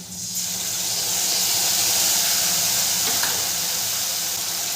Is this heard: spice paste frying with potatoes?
yes